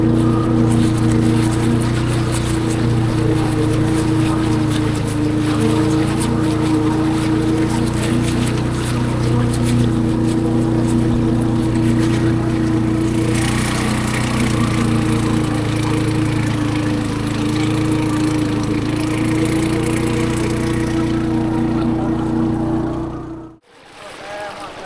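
A boat's motor runs hard, loud and unbroken, as it pushes upstream through long river rapids in Laos. The drone holds steady almost to the end, then cuts away abruptly.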